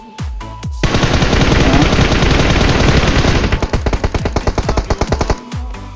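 Sustained automatic gunfire from PUBG Mobile rattles loudly for several seconds, then breaks into rapid separate bursts before fading, with scattered single shots at the start and end.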